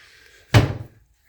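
A cupboard door in an empty house swings shut with a single close, solid thunk that fades quickly into quiet.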